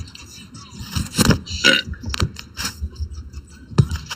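A girl lets out loud, ripping burps among friends, several bursts of varying length with breathy noises and brief background chatter between them.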